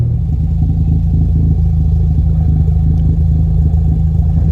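A Ford Focus ST fitted with an MBRP exhaust idles close by, a loud, steady low-pitched engine drone with a rough, pulsing burble and faint mechanical clatter, no voices.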